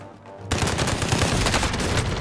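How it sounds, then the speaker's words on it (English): A MAC-10 submachine gun in the video game Warzone opens up suddenly in a dense, rapid, continuous burst, loud and close. "Bro, this MAC-10 actually shreds."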